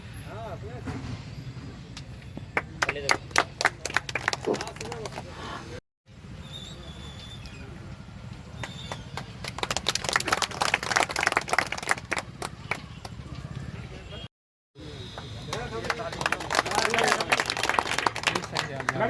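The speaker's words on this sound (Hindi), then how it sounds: "तालियां बजा दीजिए आप लोग कम से कम अपनी तरफ से" Supporters at a Jan Suraaj committee announcement meeting in Baisa block, Purnia, clap in scattered bursts, sharp individual claps swelling and fading across several stretches, with a speaker's voice between them.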